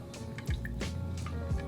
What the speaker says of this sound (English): Now I gotta pour this over this big ice cube.